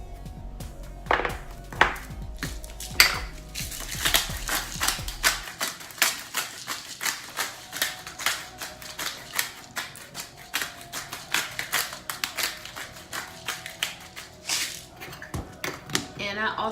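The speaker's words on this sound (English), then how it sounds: "And then I mix it some more after I add the seasonings in." Seasoned homemade Southern mac and cheese being stirred in a pan, giving a steady run of close, quick scraping and clicking taps as the spoon works through the pasta, with a voice briefly heard over it.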